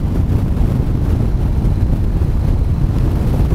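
A Harley-Davidson Softail Slim S motorcycle rumbles at about 100 km/h, a heavy low engine drone mixed with buffeting wind noise, steady and loud without any talking.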